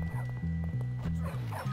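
Game dog from Bully: Scholarship Edition barks in a steady series of loud, close barks with short yips and whimpers mixed in, filling nearly two seconds without pause.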